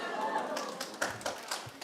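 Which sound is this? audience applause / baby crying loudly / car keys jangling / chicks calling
audience applause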